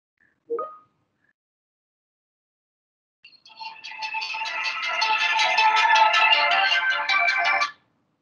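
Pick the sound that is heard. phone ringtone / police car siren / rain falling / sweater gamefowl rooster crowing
phone ringtone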